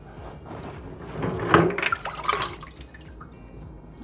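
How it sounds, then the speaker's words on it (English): Hot pickle liquid for sweet pickle relish is poured into hot canning jars, a soft watery splashing and trickling that swells in the middle and then settles into quieter dribbles, with no talking. "start filling up these jars"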